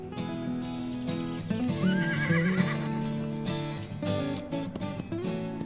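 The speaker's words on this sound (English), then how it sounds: "A herd of Haflinger, run wild, lives up here. These horses know no saddle," Wild Haflinger horses on a mountain meadow whinny loudly in a rising, quavering neigh, with a few hoof clops and other horse sounds mixed in nearby.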